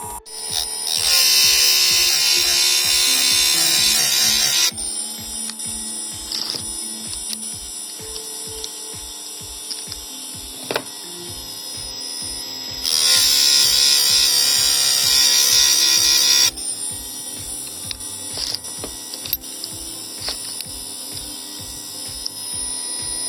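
Vitals Professional ZKA 8511s chain sharpening machine running, a steady motor hum with rhythmic clicking as each link is indexed, plus two loud stretches of harsh grinding as the wheel sharpens the teeth, close, with no talk.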